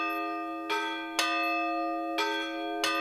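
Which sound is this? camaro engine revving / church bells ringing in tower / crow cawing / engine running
church bells ringing in tower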